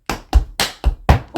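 Tap dance shoes on a hard floor work through a scuff, brush, toe step sequence for an intermediate tap routine to Maroon 5's Sugar, giving five crisp, close, evenly spaced percussive taps with sharp bright attacks.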